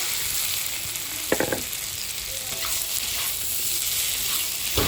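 Potatoes fry in a pan with a ground chilli paste and spices, giving a steady close sizzle throughout with a few brief clatters of stirring.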